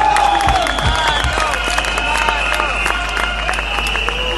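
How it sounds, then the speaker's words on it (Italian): Audience applause at an Italian political gathering of orange-vest farmers addressed by the agriculture minister, a broad crackling clatter of clapping with some crowd noise and a tonal hum beneath it. "Applausi!"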